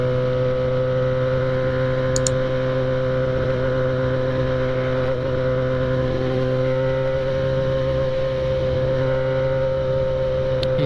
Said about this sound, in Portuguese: E essa moto aqui tá barulhando mais que tudo.